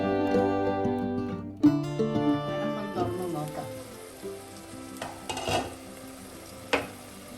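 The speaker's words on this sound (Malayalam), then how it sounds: "ഉള്ളിയൊക്കെ ഒരുവിധം വഴഞ്ഞിട്ടുണ്ട്. തക്കാളി കുറച്ചുകൂടെ ഒന്ന് വഴലാണ്" Onions and tomatoes sauté in a pan for a Kerala-style kalanji fish mulakittathu, with a soft sizzle and scattered stirring scrapes and clinks, while a melodic tonal sound plays at the start and then fades.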